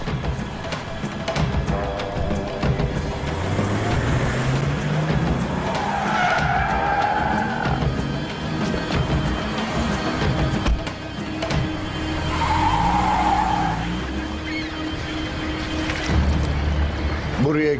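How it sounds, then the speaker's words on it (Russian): A car speeds off with tires skidding and squealing, engine revving loudly and continuously, while voices talk over the noise. "Уходим, Акиф взял дело и садится в машину"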